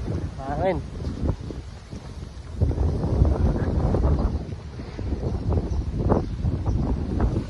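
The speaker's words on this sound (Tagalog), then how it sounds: "Medyo mahangin." Gusty wind in Malta buffets the microphone with a steady low rumble while people talk nearby on a walk, loud and continuous throughout.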